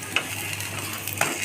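Besan-coated bread toast sizzles steadily in a pan after being flipped, a soft continuous frying hiss with two brief scrapes of a spatula, no voices.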